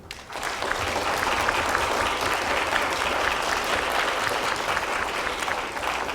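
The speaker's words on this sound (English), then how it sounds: "Please give him another big round of applause." An audience at a university leadership lecture applauds the university president, a sudden, full, steady round of clapping that stays loud and even for about six seconds.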